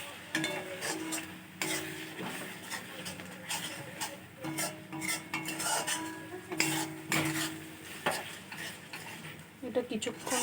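Spices being stirred in a pan of oil and chilli with a little water, the utensil scraping and clinking steadily against the metal with a faint sizzle beneath, close and continuous throughout.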